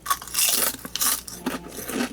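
Close, crisp crunching of thick honey butter potato chips being bitten and chewed in several bursts, with no talking.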